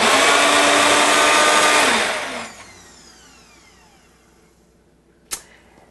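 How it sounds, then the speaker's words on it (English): A blender whirs loudly for about two seconds while mixing a raw carrot cake cream, then winds down and spins to a stop, followed by a single sharp knock near the end. "So we're going to blend this in here."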